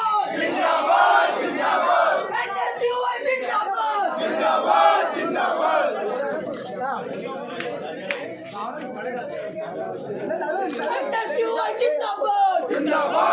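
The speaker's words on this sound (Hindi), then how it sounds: "प्रदर्शन के दौरान नारे लगाए गए और ऑफलाइन परीक्षा का विरोध किया गया" Crowd of student protesters shouting slogans in unison at an NSUI demonstration against offline exams in Ujjain, a dense, continuous roar of chanting voices close by.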